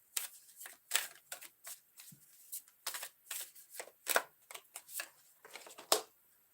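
Moon oracle cards are shuffled by hand in a series of crisp riffling and slapping bursts, irregular and close, with quiet gaps between.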